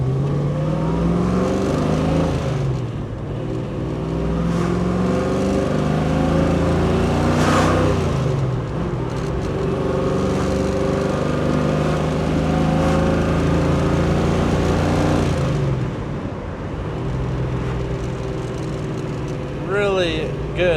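A 1969 Mustang Mach 1 with the S-Code 390 engine pulls through the RPM range on the road, a steady cabin-level engine drone rising and falling with gear changes.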